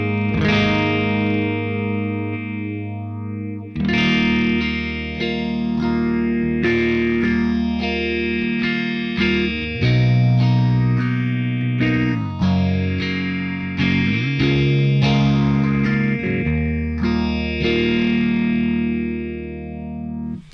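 A clean electric guitar tone through the Neural DSP Archetype Gojira amp plugin with its phaser engaged: sustained chords and picked notes ring out steadily for about twenty seconds, close and fairly loud, with no talking.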